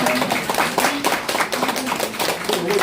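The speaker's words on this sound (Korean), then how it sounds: "박수 치세요" An audience at a lecture breaks into steady clapping, a continuous, fairly loud patter of many hands with no clear voices over it.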